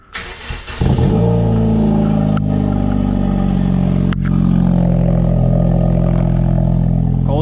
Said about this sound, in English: Cold start for the boys.